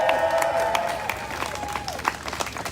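A crowd at an outdoor community rally claps and cheers with scattered whoops, while a sustained musical or vocal tone rings through the first half and sharp individual claps stand out near the listener.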